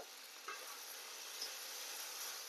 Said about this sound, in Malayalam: ജസ്റ്റ് ഒരു ഉരുളി വെച്ചു, കുറച്ചും കൂടിയും വെളിച്ചെണ്ണ ഒഴിച്ചു, ഇതിലേക്ക് ഇട്ടുണ്ട് കേട്ടോ.